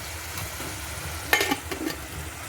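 A spoon stirring tomato paste curry with salt and turmeric in a hot pan, a soft sizzle throughout with a brief scraping burst of stirring midway, close and alone.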